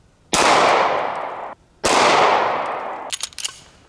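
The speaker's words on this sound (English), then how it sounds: "Up next is 9mm. I have some 115 grain full metal jackets," Two loud 9mm pistol shots with 115 grain full metal jacket rounds from a GST9, fired at a steel Olympic weight plate. Each sharp crack is followed by a long decaying echo, with faint metallic clinks after.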